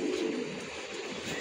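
Soft, steady cooing from a female racing pigeon among a loft of racing birds, heard close and continuous with no voices over it.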